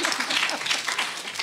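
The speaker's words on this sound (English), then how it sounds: "a round of applause" Brief burst of audience applause during a panel on women entrepreneurs, many hands clapping close and fairly loud for just over a second, with no speech.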